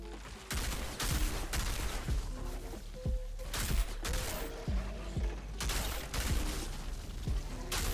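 Bursts of rapid gunfire in the shooter game Outriders, loud repeated volleys with short gaps between them over a continuous game background, no talking.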